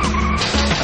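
A car accelerates hard with its tires skidding and squealing in one brief, loud, continuous burst of engine roar and tire screech.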